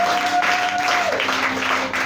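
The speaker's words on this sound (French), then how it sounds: "Acclame Jésus" Applause from a church congregation during a French-language sermon, a steady broad wash of clapping over about two seconds with a faint held tone early on.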